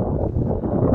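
Strong wind buffets the microphone in a steady low roar during a tornado warning in Calgary, Alberta, with no other sounds standing out.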